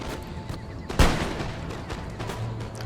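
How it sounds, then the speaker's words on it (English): A single cannon blast firing canister shot in Empire: Total War, a sharp boom about a second in that decays into a rumbling tail over faint background battle noise. "Canister shot, if you will."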